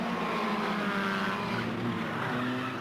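Race cars at Brands Hatch crossing the line, a continuous loud engine roar with whining, slightly shifting tones and a hint of tire squeal, heard from trackside as the pack streams past; no speech.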